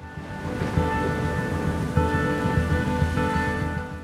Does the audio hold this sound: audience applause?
no